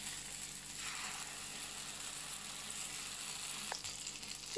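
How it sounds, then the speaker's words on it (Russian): Zucchini fritter batter sizzles and crackles steadily in a hot pan, a soft continuous frying hiss with a couple of faint clinks near the end. "Берем ложку и наливаем на сковородку лепешечки."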